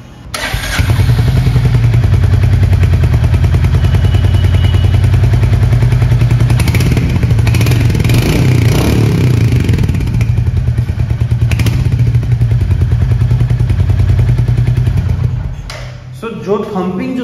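A Royal Enfield Classic 350 motorcycle idles and revs nearby with a deep, thumping single-cylinder exhaust note, loud and steady, with clattering mechanical sounds and someone talking over it.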